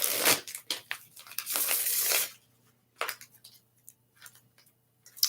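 Tarot cards being shuffled by hand, close and quiet, in a few bursts of riffling and sliding separated by short pauses.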